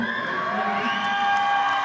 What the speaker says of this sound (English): a big cheer, one of the loudest cheers we've heard all week for Will Bailey